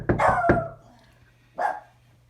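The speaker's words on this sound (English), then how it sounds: "Quiet, dog." A neighbour's dog barks sharply at a visitor at the door, a quick double bark followed by one more after a short pause, close and loud.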